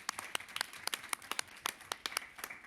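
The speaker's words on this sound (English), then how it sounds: "Can I have a round of applause for everybody who worked hard on these recommendations from the working group?" A small group at a consumer advisory committee meeting gives a short round of applause, sparse, separate claps that sound close by and fairly quiet.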